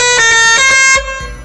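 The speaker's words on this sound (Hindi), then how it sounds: "हॉर्न बजाने में एक नंबर मजा आ गया मेरे को।" A loud, sustained Bajrang pressure horn on a vehicle blares with a bright, reedy multi-tone sound, then cuts down to a quieter continuing tone near the end.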